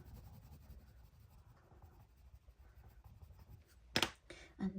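Dark blue coloured pencil drawing on paper, a soft, steady scratchy shading whisper close up, ending with a few sharper, louder strokes or taps.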